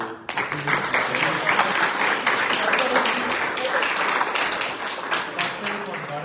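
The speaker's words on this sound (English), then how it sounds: "big round of applause" Audience at a Hindu temple bhajan satsang in Solihull clapping steadily for several seconds, a dense, even wash of applause with a voice faintly underneath.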